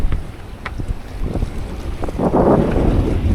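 Wind gusting over a small sailboat at sea in the Caicos Channel, a rushing, buffeting noise on the microphone with faint water sounds, swelling toward the end.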